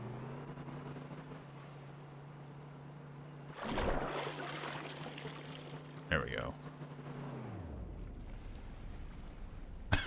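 The amphibious R3 T20 prototype's engine in the Stormworks game drones low and faint as it drives through water, its pitch sagging near the end, under a voice and splashing sounds.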